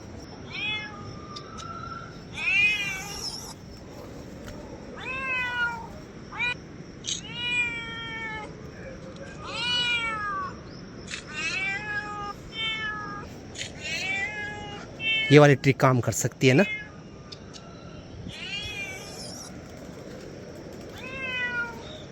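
Repeated cat meows, some drawn out into yowls, play one after another from a phone speaker while a person speaks briefly over them.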